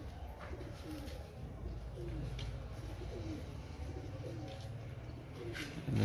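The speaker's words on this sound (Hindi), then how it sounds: "तो ये भी अपना कबूतर है, उतर रहा है।" Soft, repeated pigeon coos rise and fall over a steady low background hum, with faint distant chirps.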